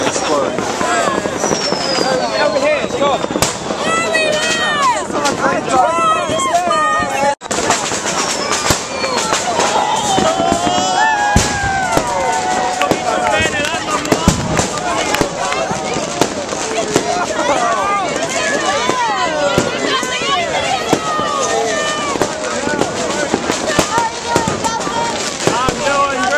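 New Year's fireworks bursting over Rome in a dense, continuous barrage of cracks and booms on all sides, with whistling rockets and people shouting and talking close by throughout.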